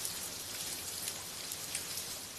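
Heavy early-morning rain pours down on Temple Street, Hong Kong, as a dense, continuous patter of drops on surfaces, steady and fairly close with no voices.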